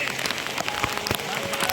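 Heavy, stormy rain pounds outdoors near a tent while friends camp in the fields, a loud dense patter with scattered sharp drop hits and some talk mixed in.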